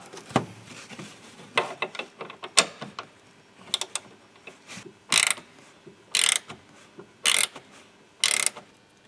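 Ratchet wrench tightening the nut on a Peugeot 307 SW trunk hinge: scattered metallic clicks, then four loud, even bursts of rapid ratcheting up close, with no voices.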